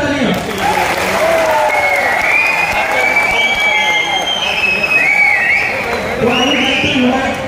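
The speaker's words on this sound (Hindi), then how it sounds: "तो प्लीज एक बार इनके लिए जोरदार तालियां" Audience applause fills a company hall during a workplace safety demonstration, a steady dense wash of clapping lasting throughout, with voices shouting and talking over it.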